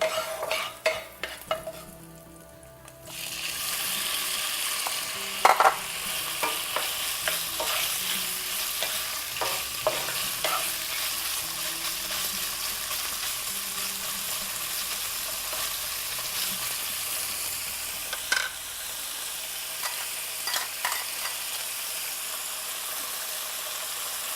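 Chopped vegetables hit a hot pan and sizzle steadily, with a quiet start before the frying hiss rises, joined by irregular scraping and clacking as a utensil stirs them.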